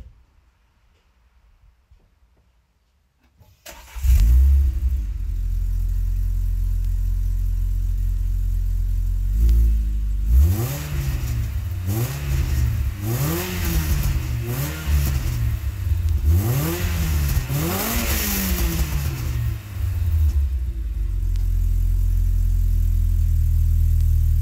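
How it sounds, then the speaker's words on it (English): Renault Clio RS200 Gordini fitted with a motorsport exhaust starts up after a quiet moment, then idles and is revved repeatedly in a run of rising and falling blips, loud and close, settling back to a steady idle. "I've put a pure motorsport exhaust system on it, so which gives a bit of extra power and some extra torque, and it sounds pretty good too."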